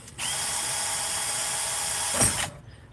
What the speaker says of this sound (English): just as long as you drill it in the right spot